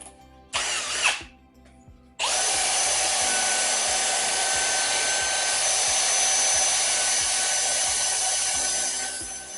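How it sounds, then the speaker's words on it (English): A flap wheel on a power drill sanding a wooden coffee table: a brief whir, a pause, then a loud, sustained high-pitched grinding whine with a rough abrasive hiss, close by and easing off at the end. "I might grab that flap wheel and go through it and hit those lips again"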